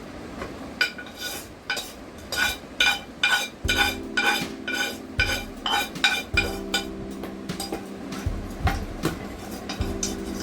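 A heavy kadai pan being handled and stirred during cooking gives repeated metallic scrapes and clanks in an uneven rhythm, with a low steady hum underneath.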